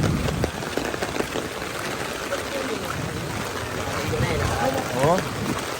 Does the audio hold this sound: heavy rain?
yes